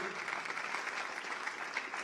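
Church congregation applauding together in a steady, dense wash of claps, moderately quiet and continuous throughout, with no voices standing out.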